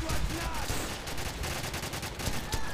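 Gunfire from a Call of Duty 4 mission played on PC rattles on dense and continuous for the whole stretch, loud bursts running into one another with no talk over them.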